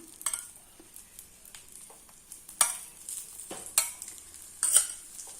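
A pizza-style egg omelette fries in oil in a pan, seasoned with cumin and pepper, giving a quiet, steady sizzle broken by several brief scraping or tapping bursts from stirring or utensil contact.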